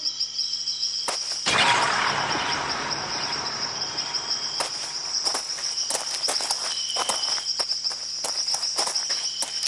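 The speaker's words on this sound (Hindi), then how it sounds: "अचानक से उसे कुछ कदमों के चलने की आहट आने लगी और धीरे धीरे वो आहट और भी करीब आने लगी।" Footsteps approach through a jungle at night in an audio drama, soft crunching steps under loud, constant cricket chirring with occasional bird calls and a brief rustling swell near the start.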